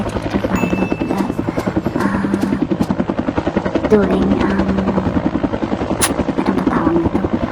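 Firefighting helicopter flying over burning woods on a water-drop run, its rotor thumping in a steady fast beat, loud and close throughout, with someone speaking over it.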